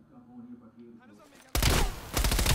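Loud burst of gunfire from the Call of Duty Black Ops Cold War video game erupts suddenly after a quiet stretch with faint voices, continuing as dense, close rapid shots to the end.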